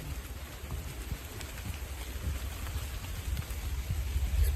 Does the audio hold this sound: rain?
yes